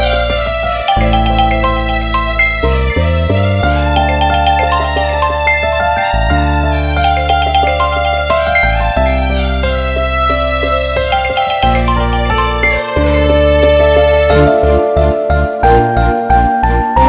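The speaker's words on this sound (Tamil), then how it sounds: "என்ன மீரா போன் எடுக்க மாட்டேங்கிறா?" A phone ringtone plays a loud, continuous melodic jingle for the whole stretch, repeating with no answer and no voices over it.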